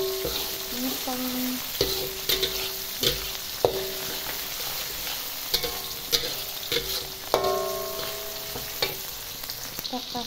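Tempeh and green beans stir-frying in a pan, with a steady close sizzle running throughout and repeated scraping and clinking of a spatula against the pan. No one speaks.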